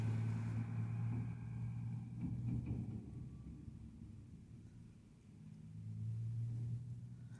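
Heavy trucks rumble past on a snowy upstate New York road ahead of a winter storm, their low engine drone swelling, easing briefly and building again as vehicles pass close by.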